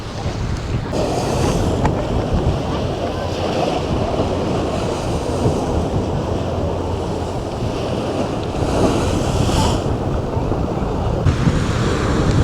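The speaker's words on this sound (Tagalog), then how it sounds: "Lakas lang po ng alon dito ngayon." Strong ocean waves crash and roar continuously near Rinku, Japan, with heavy wind buffeting the microphone throughout.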